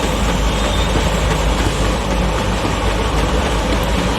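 A train in the Free Fire video game rumbles past in a steady, loud, continuous roar with faint rail clatter, and no one speaks.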